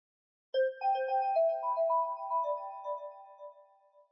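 A phone rings for an incoming call at an Indonesian market, a clear electronic melodic ringtone of bright, sustained tones starting abruptly and fading, heard alone without talk.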